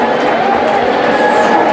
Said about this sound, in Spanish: un aplauso más fuerte para el Señor Jesús